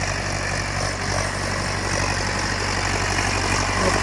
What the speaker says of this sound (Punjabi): ਟਰੈਕਟਰ ਨਵਾਂ ਮਾਡਲ ਆ